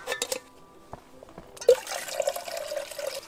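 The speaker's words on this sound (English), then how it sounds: "So I'm just gonna fill it up to that line." Water is poured into a Jetboil stove pot up to its fill line at a campsite, with a splashing, rising fill after a few soft clicks and handling knocks.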